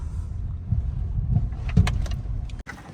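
A car pulling in and parking, low engine rumble close by with a few soft knocks and a sharp click near the end as it settles.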